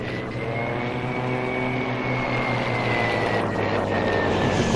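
A propeller plane in the video game Battlefield 5 drones loudly and steadily, its engine tone shifting slightly as it flies close by, with no talking.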